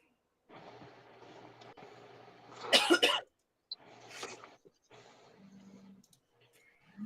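A sharp, loud cough bursts out in the middle of low, muffled voices, with quieter talking continuing afterward.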